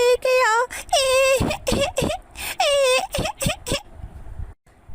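A cartoon bird cries in high, wavering bursts, wailing and whimpering with sobbing breaks between phrases.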